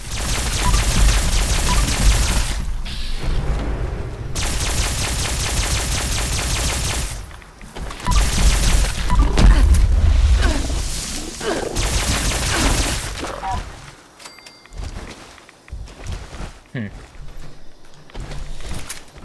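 Unknown Alien Blaster in Fallout 76, fired in long, fast bursts of sharp rapid shots with short pauses between them, loud and close, with a person talking over the gunfire and quieter game sounds near the end.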